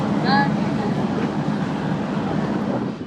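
A ferry idles at the Princes' Islands pier in Istanbul with a continuous low rumble of engine and water. A short high whistle or call sounds near the start, and the noise stays steady throughout with a busy dockside background.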